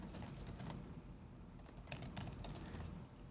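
Steady typing on a computer keyboard, a name being entered, with close, continuous key clicks in a quiet room and brief bursts of faster keystrokes.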